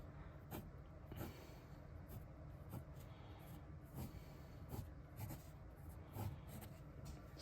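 Pencil sketching a human figure on paper, soft steady scratching strokes with repeated short marks, quiet and close.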